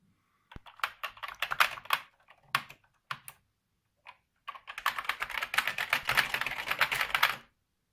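Fingers type on the tiny keyboard of a Commodore C64 Mini, first in scattered taps and short bursts with pauses, then in a dense, fast, steady run of close clicking keys, with no talk.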